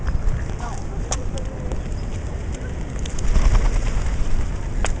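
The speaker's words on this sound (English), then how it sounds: "So there are pigeons, ducks, and swans all here," Pigeons gathered near Charles Bridge in Prague give faint coos and wing flutters against a busy outdoor hum, with people murmuring nearby.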